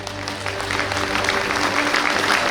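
Audience at a university online convocation applauding and cheering for degree holders, a steady dense wash of clapping that fills the whole stretch at even loudness.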